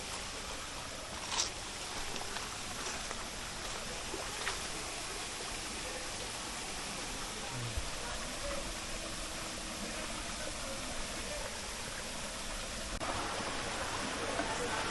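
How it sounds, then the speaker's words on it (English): Faint, steady rushing of a small waterfall in the Delhi NCR area, a soft continuous wash of water heard from a distance with nothing standing out above it. "Can you think of a waterfall in Delhi NCR? Here it is."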